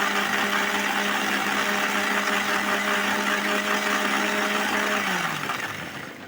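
A kitchen mixer grinder whirs loudly as it grinds raw tamarind into paste, a steady close motor drone with a buzzing hum that winds down and fades at the end.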